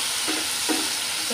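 Dried ichha shrimp fry in a pan for a bitter gourd dish, a brief continuous hiss of sizzling oil with a couple of faint stirring touches.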